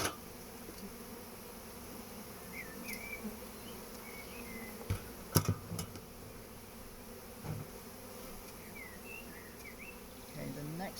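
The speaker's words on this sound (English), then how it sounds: "Don't wave your hand over the bees, they don't like it." Honeybees buzz continuously around an open hive during a swarm inspection, a soft, steady drone with a few nearer individual bees passing close by.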